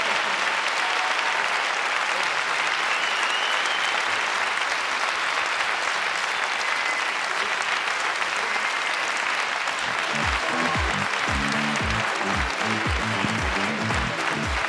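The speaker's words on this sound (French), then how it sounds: "On peut applaudir bien fort nos deux invités une dernière fois de cette curieuse rencontre." A festival audience applauds two guests at the close of a talk, a steady, dense wash of clapping throughout, joined near the end by low rhythmic thumps.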